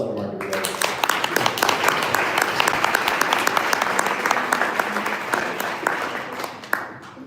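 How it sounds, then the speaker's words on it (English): Sustained audience applause for a speaker at a live startup pitch event in Detroit, dense steady clapping from a crowd filling the room, loud and continuous for several seconds before tapering slightly at the end. "One last round of applause for Mark."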